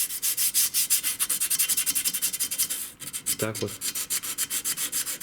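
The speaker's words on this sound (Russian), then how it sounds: "И все вот так вот наждачкой." A Suzuki Grand Vitara brake pad is hand-sanded with sandpaper to cure squeaking brakes, giving steady back-and-forth rasping strokes in a quick, even rhythm; a brief spoken word breaks in midway.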